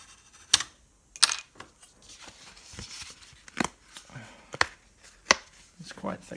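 A sharp knife blade cutting through thick cardboard to make a template for a tire swing rack, heard as sharp, irregular crunching snaps spaced about a second apart over quiet background, close to the microphone.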